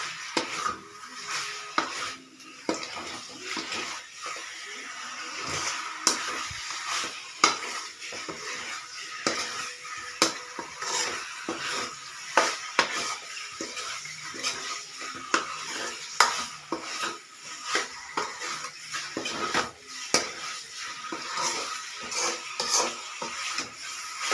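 Chicken fries in oil in a pan for a spicy chilli chicken dish, giving a steady close sizzle, with frequent scrapes and clinks of a utensil stirring against the pan throughout.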